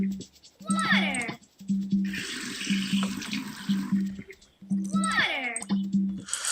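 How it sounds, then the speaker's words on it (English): A computer game's garden-watering effect, water poured onto plants, comes as repeated splashy, trickling bursts, loud and near, alternating with cartoonish meow-like character sounds. "Water."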